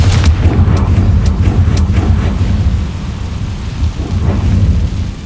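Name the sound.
Confringo blasting spell in video game Hogwarts Legacy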